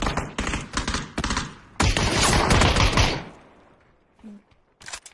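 Rapid bursts of video game gunfire crackle loudly in repeated volleys, then one long sustained burst that fades into near-silence before a few soft closing taps.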